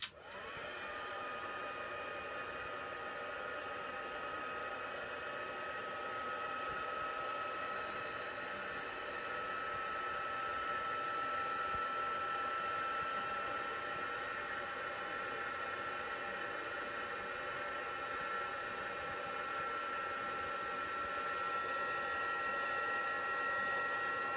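A crafting heat tool blows steadily, a constant whooshing hiss with a faint whine that runs unbroken throughout.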